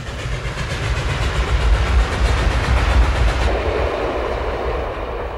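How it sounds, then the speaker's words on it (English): An Illinois Central mountain-type steam locomotive hauls a freight train through Kankakee, Illinois, in the early 1950s, giving a loud, steady rumble with rhythmic clatter of wheels that eases slightly toward the end. "Here we see one of those mountain types as it hauls a freight through Kankakee"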